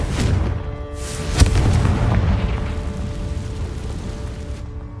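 A Confringo fire spell bursts in Hogwarts Legacy, a loud booming blast with a sharp crack that rolls into a sustained rumbling roar, fading after a few seconds.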